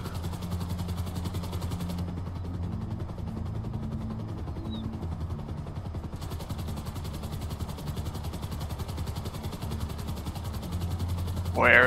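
A helicopter armed with machine guns in GTA 5 drones steadily with a low rotor and engine hum throughout, joined by a sharp burst near the end.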